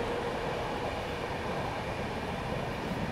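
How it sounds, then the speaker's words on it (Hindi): A train rushes past at speed through Govindpuri railway station at night, a loud, steady broadband roar of wheels and carriages filling the whole stretch without pause. "और ये देखिए कोई गाड़ी निकली स्पीड से।"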